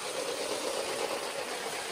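Motorized LEGO City 60197 passenger train running along its track, giving a steady, even whir with no breaks, close and moderately loud.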